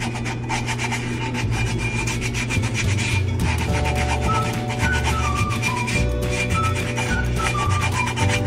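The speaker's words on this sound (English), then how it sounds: "get my sandpaper again and make it smoother" Sandpaper rubs steadily against the chipped rim of a drinking glass, a continuous dense scraping with repeated back-and-forth strokes, close and loud, with no voices.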